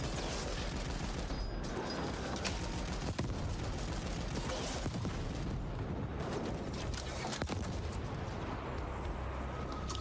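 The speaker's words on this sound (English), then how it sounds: "Something is shooting the shit out of me from over there with rockets, and I don't like it. Oh, it's like a mortar?" Rockets or mortar rounds pound the player in the action game The Ascent, a dense barrage of sharp bangs and crackling gunfire with repeated impacts over ten seconds, loud and busy throughout.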